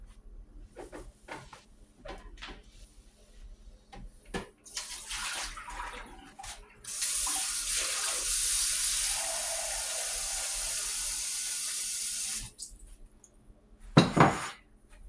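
Tap water gushes steadily for several seconds, framed by quiet clinks and knocks of dishes and a cupboard, with a final splash and clatter.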